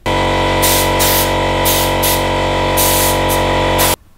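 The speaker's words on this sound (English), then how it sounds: "And I use the compressor for that." Air compressor hisses loudly up close while blasting leftover gum off vintage Lego train rails, the blast pulsing in short surges over a steady mechanical hum for about four seconds before cutting off abruptly.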